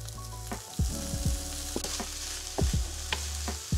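Ground taco meat hits a hot oiled pan and sizzles loudly, with several clunks and scrapes of a utensil against the pan breaking up the steady hiss, no talking.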